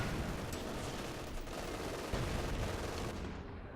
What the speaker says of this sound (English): 6-pounder starts putting rounds into the back of that Panther